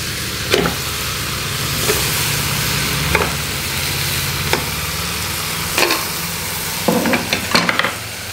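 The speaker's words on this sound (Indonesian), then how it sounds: "Kita tumis sebentar kecapnya biar keluar karamelnya. Masukkan daging sapinya." Sweet soy sauce sautés with beef ribs in a pan, a loud, constant sizzle broken by periodic scraping strokes of a utensil and a few sharp clinks near the end, with no voices.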